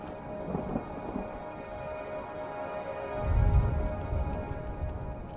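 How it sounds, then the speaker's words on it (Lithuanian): Arctic ice breaks apart with a deep, low rumble that builds in the middle and then fades, over a faint steady background hum. "Atskildami ledo gabalai sudrebina viską aplink."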